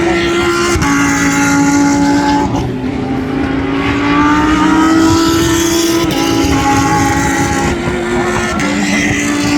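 Lamborghini race cars at a three-day racing festival scream past with high-pitched sustained engine notes that shift in pitch as they accelerate and pass, loud and close with overlapping cars.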